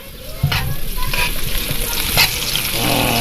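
Adobo ingredients, with chili peppers and eel, sizzle loudly in oil in a kawali while a utensil stirs and scrapes through them, the frying hiss steady and close throughout.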